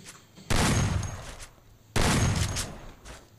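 Gunfire in the mobile battle game Garena Free Fire comes as two loud, sharp bursts of rapid shots, each lasting about a second, separated by a short pause.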